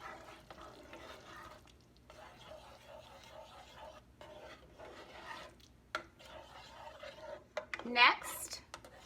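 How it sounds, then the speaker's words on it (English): Quiet scraping and swishing of ingredients being stirred in a pot, soft and continuous with a brief clink near the end. "Give it a stir."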